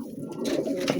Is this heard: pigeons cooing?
yes